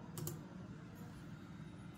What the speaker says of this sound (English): type in touchpad using your keyboard